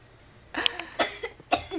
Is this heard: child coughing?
yes